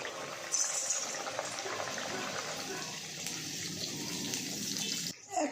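Luchi dough for pea-stuffed koraishutir kochuri frying in hot oil in a pan, giving a steady, close bubbling sizzle that holds throughout and breaks off briefly near the end.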